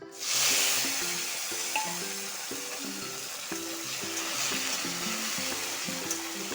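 Diced potatoes dropped into hot oil seasoned with panch phoron and bay leaf, a loud burst of sizzling at the start that settles into a steady frying hiss, with tonal sounds in the background.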